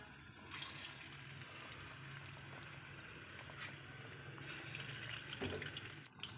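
Khichdi pakoras sizzle as they fry in hot oil, a steady, faint crackling hiss with small bursts of spattering that swell slightly toward the end.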